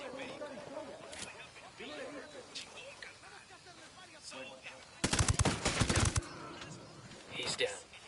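A loud burst of rapid automatic gunfire in Ghost Recon Wildlands erupts midway, with quieter shots later, while voices talk over the game sounds throughout.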